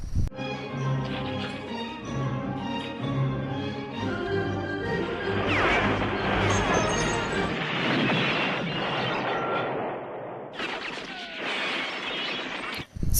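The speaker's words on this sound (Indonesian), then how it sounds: "Rambo langsung masuk ke suatu toko dan kemudian ia meledakkan toko itu" A shop is blown up by Rambo in First Blood, a loud crashing blast with breaking debris rolling over a dense movie soundtrack, then a second hard burst at the very end.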